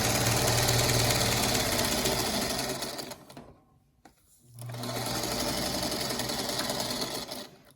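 A sewing machine stitches quilt block corners with the right sides of the fabric together. It runs loud and close in a steady motor whir, pauses briefly near the middle, then starts again and runs on.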